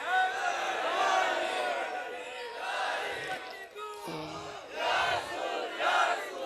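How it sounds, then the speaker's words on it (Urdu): Several people loudly chanting religious slogans in unison at a devotional gathering at a darbar, voices rising and falling in repeated bursts with crowd noise throughout. "ایک دو تین تے چار بندے نعرے لا رہے ہیں۔"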